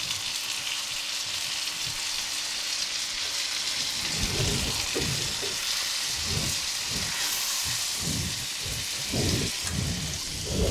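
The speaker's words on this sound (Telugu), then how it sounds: "సాల్ట్ వేసి ఉల్లిపాయ వేగేటప్పుడు ఇప్పుడు వేస్తున్నా." Chicken fries in a pan with onions and salt, a steady loud sizzle like heavy rain filling the whole stretch, with irregular low clattering bursts of stirring in the second half.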